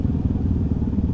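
A Yamaha WR155 motorcycle engine revs loud and close in a short, steady, throaty burst with a rough, rumbling low end and no voices over it.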